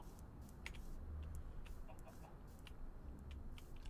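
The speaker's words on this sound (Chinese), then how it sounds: "鸡叫声。" A chicken clucks in the video game Minecraft, faint and brief against a steady wash of in-game ambient noise with scattered short ticks.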